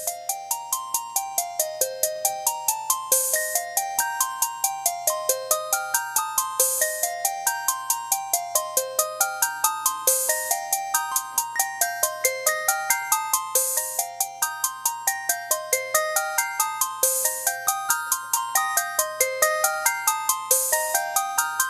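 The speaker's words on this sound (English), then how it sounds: "Just a nice little arpeggiator" A Novation Circuit groovebox arpeggiator cycles bright, plucky synth notes in fast repeating up-and-down patterns over a low sustained drone, with periodic hissy accents, steady and clean with no talking.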